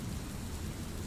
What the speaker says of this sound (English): Outside, the rain fell harder